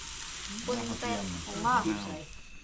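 Pork sizzling on a hot tabletop grill, a crackling hiss that swells and fades, with a few murmured voices close by.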